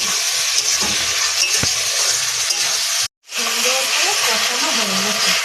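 Spice paste with turmeric, chilli powder, cumin, coriander, salt and a little sugar sizzles and hisses steadily in a pan while being stirred, close and loud, with a brief break and a voice speaking in the second half.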